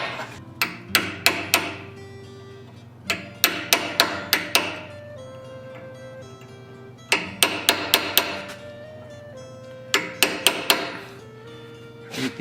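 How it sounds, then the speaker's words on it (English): Small chisel struck repeatedly with a hammer while forging eyebrows into a metal Viking head, sharp ringing metallic blows in quick clusters of three to five, separated by brief pauses, close and loud. "I need to come in with a small chisel."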